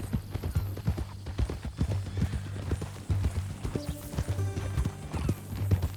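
Hooves clip-clop in Red Dead Redemption 2 as a mean-looking new horse walks along, a steady close rhythm beneath a short conversation between characters.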